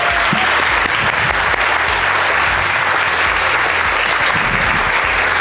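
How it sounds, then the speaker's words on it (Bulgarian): A crowd at an evening gathering breaks into loud, sustained applause for the event's organiser, dense clapping close and steady for several seconds. "айде да направим едни големи аплодисменти за Галин"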